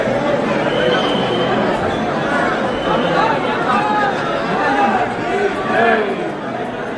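Dense crowd of pilgrims at the Mahakal temple in Ujjain, a steady loud babble of many overlapping voices close around, continuous with no pauses.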